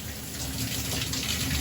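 Shower water runs in a steady, loud, close hiss and splash, with no voices over it.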